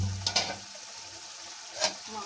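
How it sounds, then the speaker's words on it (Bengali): Meat sizzling in a pan with onion, green chili, ginger, garlic and garam masala, a soft steady frying hiss broken by a few sharp spoon-scraping stirs, with a voice faintly present. "মাংসটা কষানো হচ্ছে।"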